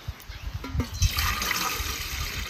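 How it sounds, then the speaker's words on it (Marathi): Water pours and splashes into an idli cooker pot set on a stove, a soft, steady trickling rush that starts after a few quiet knocks and stays faint. "आणि ह्याच्यात घालते पाणी"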